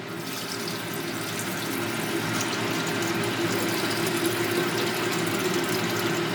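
Hydrochloric acid pours steadily into a container up to about the 1,000 milliliter mark while gold is refined, making a continuous, even liquid rush with no voices.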